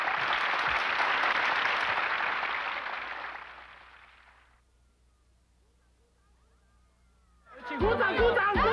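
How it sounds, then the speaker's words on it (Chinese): A studio audience on a television variety show claps loudly and steadily, the applause fading away over several seconds into near silence before voices and laughter break in at the end. "请鼓掌，鼓掌，鼓掌！"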